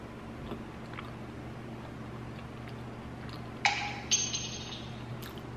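A phone notification sounds once, then again a moment later: two short, bright pings that cut through an otherwise quiet room with a low background hum.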